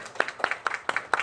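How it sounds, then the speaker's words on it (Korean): A brief patter of hands clapping to welcome a visitor during a young adults' church worship service, a handful of sharp claps in a loose rhythm, fairly close and modest in volume. "환영의 박수 같이 나누겠습니다"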